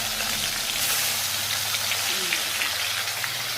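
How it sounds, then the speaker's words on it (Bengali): Pona fish rubbed with salt and turmeric frying in a pan, a dense continuous rain-like sizzle with faint low background hum. "সুন্দর করে পোনা মাছগুলো ভেজে নিই"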